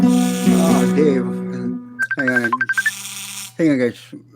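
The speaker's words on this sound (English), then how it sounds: "Getting a stupid phone call." An incoming phone call signaled by a bright, repeating electronic ringtone with short melodic beeps, heard close and under a person talking.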